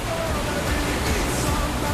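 A tropical waterfall in the East Malaysian rainforest roars as a broad, steady rush of falling water heard from behind the curtain of water, loud and constant with no voices.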